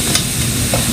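A fork stirs food frying in a worn, heavily abused nonstick pan, with a steady close sizzle and a couple of brief scraping clicks, no talking.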